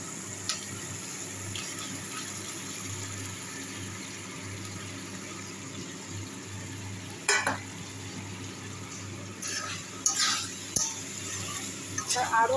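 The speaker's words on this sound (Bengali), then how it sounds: "আরও আরেকবার ভালো করে কষিয়ে নেব।" Potato and jackfruit being stirred and sautéed in a spice masala in a pan, a low steady sizzle with a few sharp scraping clatters of the spoon near the end.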